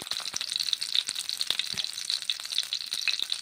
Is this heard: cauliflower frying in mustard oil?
yes